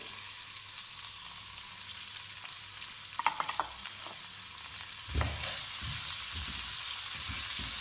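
Tomatoes and green chillies frying in a pan with potatoes, a steady close sizzle throughout, with a brief clatter of stirring midway and a soft scrape of utensil afterwards.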